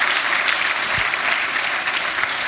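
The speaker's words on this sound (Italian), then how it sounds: "sì, un applauso, grazie" An audience at a literature festival event applauds loudly and steadily, a close, continuous patter of many hands with one brief thump partway through.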